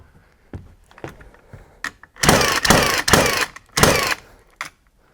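A cordless, flywheel-free nail gun fires in a shop during staircase building, giving several sharp, loud bursts close together with a few lighter clicks and knocks around them.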